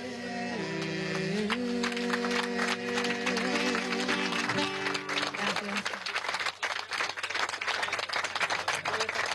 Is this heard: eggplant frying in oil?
no